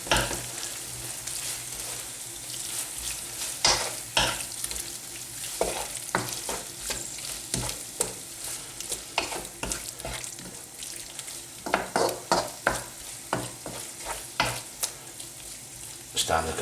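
Spices stirred into curry sauce frying in a pan for chicken madras, a steady close sizzle with scraping spoon strokes that come in bursts, louder near the end.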